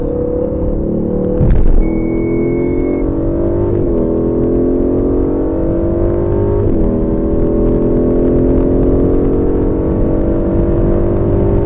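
Aston Martin V8 Vantage on the Silverstone circuit, its V8 engine droning steadily and climbing in pitch through repeated upshifts under hard acceleration, loud and close from inside the car, with one brief knock early on.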